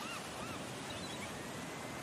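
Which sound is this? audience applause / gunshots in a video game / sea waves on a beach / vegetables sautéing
sea waves on a beach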